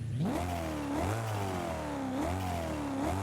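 In Forza Horizon 5, a 2005 BMW M3 fitted with a sport exhaust revs repeatedly, three rising and falling surges with a throaty, deeper growl, close and isolated.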